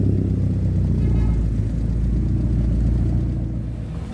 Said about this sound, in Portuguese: Chama que tá vindo o carro.